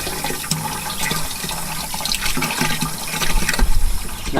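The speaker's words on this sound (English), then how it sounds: "I'm going to add some water while I'm pouring it in" Water gushes and splashes steadily into a weed killer mix for lawn nutsedge, a loud, close, continuous pour with bubbling surges that swell toward the end.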